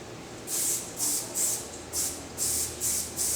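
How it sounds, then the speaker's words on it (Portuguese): A spray paint can sprays graffiti fill in a series of about seven short, even hissing bursts with brief gaps between them, close up and without talk. "quando estiver fazendo o preenchimento com spray, você fazer movimentos iguais"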